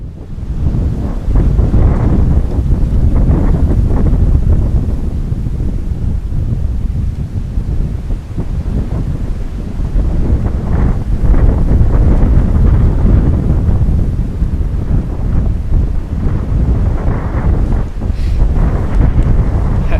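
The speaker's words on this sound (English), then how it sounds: "It's so windy." Strong wind buffets the microphone outdoors in the timber during an elk hunt, a loud, continuous rumbling roar that surges and eases with the gusts.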